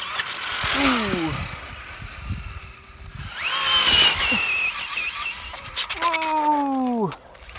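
A Traxxas Slash 2WD brushless RC car runs through snow, its electric motor whining up and down in sharp rising and falling sweeps as it passes close by, with a voice speaking between passes.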